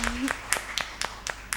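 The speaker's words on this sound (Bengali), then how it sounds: "তাদের জন্য জোরে একটা করতালি" A sparse round of clapping from a quiz show audience, sharp individual claps coming in a quick, fairly regular rhythm under a voice.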